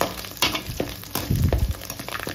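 Curry leaves frying in hot oil in a pan for Mangalorean chicken sukka, a steady crackling sizzle with a few sharp pops and stirring scrapes, fairly close, no voices.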